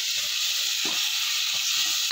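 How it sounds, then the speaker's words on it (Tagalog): Pork sautés with onion, garlic and tomato in a pan for mung bean stew, making a loud, constant close-up sizzle with a few soft stirring knocks underneath and no talk. "ginigisa ko na po Yan, nandito na ang ating sibuyas, bawang at kamates"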